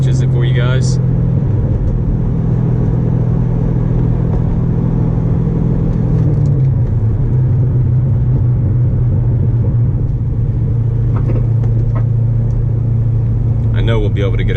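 Chevrolet C6 Corvette V8 with an SLP aftermarket exhaust, a steady deep low rumble while cruising, pitch stepping slightly around the middle, with faint background noise throughout.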